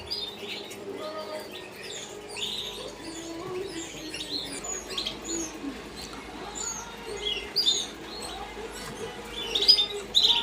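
Newly hatched canary chicks peep in thin, high chirps, scattered and fairly soft, growing busier toward the end, alongside faint rustling and wing flutters from nearby birds.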